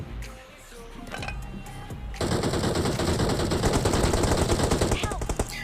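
Automatic gunfire in the BGMI mobile battle game as two rushing enemies are shot down, a quieter stretch giving way to a dense, sustained burst of rapid shots.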